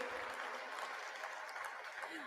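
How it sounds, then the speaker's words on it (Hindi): Applause for female students at a valedictory session of a philosophy congress, a faint, dense wash of clapping heard from a distance, steady throughout the short stretch with no voice over it. "एक बार जोरदार तालियों से इन छात्राओं का उत्साहवर्धन करिए"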